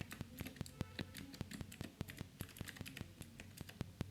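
Rapid, uneven clicks of a computer keyboard as code is typed, each keystroke crisp and close, coming in quick bursts with brief pauses between them.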